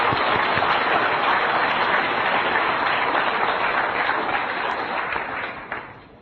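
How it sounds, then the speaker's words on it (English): A lecture audience applauds in a dense, steady wash of clapping that holds for several seconds, then tapers slightly at the end. "I think we should all thank him with some applause"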